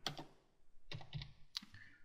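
Someone is typing on a computer keyboard during a jQuery coding tutorial, with a few short clusters of key clicks separated by pauses, close and fairly quiet.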